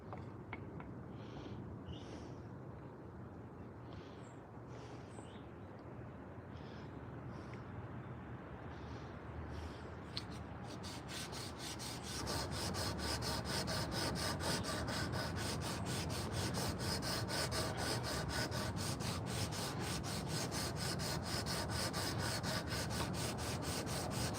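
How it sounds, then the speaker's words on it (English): A high-powered sander working over a carved wooden spoon, a steady close whirring rasp that runs throughout and gets louder and buzzier partway in, with no talk. "the old high-powered sander here"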